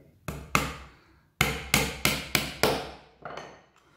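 Hammer driving nails into a plywood box, about nine sharp, loud, close strikes in uneven bursts, each ringing briefly before the next, with no voices.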